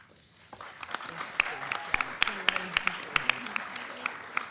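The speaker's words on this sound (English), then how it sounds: "Let's have a round of applause again for all of our amazing competitors." Middle school quiz show audience claps for the competitors, starting quietly and building into a moderate round of distinct claps with faint voices mixed in.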